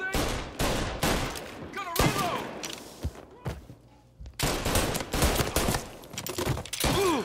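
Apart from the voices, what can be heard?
gunfire in video game Mafia Definitive Edition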